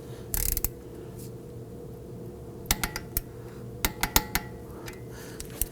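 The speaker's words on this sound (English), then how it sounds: "We're now going to go ahead and torque down our axle nut to 25 foot-pounds." A ratchet wrench torquing the axle nut on a 2001-2009 Volvo S60, an early burst of clicks then short runs of sharp ratcheting clicks separated by pauses, close and clear over a quiet garage hum.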